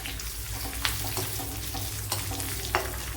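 Dried red chilies fry in oil for sambar, a continuous close sizzle with a low steady hum underneath and a few sharp ladle clicks.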